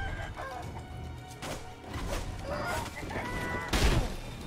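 Chickens in Sekiro: Shadows Die Twice clucking and squawking in short, irregular bursts over game ambience, ending with a louder, sharp flurry near the end, no talking.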